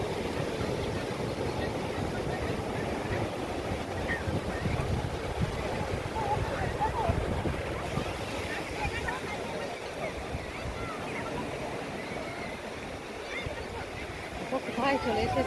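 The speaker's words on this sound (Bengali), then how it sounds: "দেখো ঢেউটা আসছে" Ocean waves roll in and break on Digha beach, a steady wash of surf with wind buffeting the microphone, fairly close and continuous throughout.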